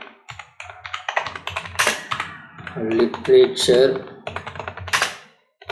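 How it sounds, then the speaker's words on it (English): Rapid typing on a computer keyboard at close range, with bursts of key clicks running throughout and a person talking over part of it. "So here I'm going to type"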